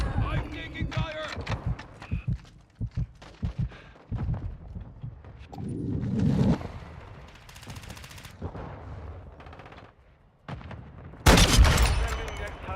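Rapid gunfire from a Call of Duty: Modern Warfare III multiplayer match, with bursts of automatic shots, loud and close, plus sharper blasts and a heavy explosion-like hit near the end, with occasional voices in the mix.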